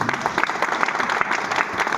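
A crowd at a leaders' gathering breaks into hearty applause for their guru, brisk overlapping claps filling two seconds with no speech over them.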